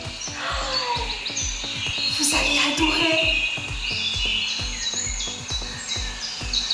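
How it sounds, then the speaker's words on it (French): Birds chirp and sing in a garden, mixed with a steady rhythmic beat of background music, while a voice speaks briefly. "J'entends des chants d'oiseaux."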